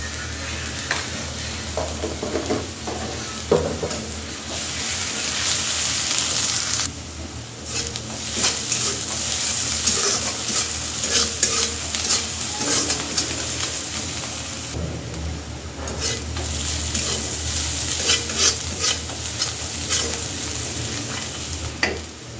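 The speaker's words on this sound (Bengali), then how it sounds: "দিয়ে পেঁয়াজটা ভালো করে একটু ভাজি ভাজি করে নেব" Onions with a little salt frying in a pan and stirred, producing a dense, loud, rain-like sizzle throughout, with frequent scraping and clinking of a spatula against the metal, close and continuous.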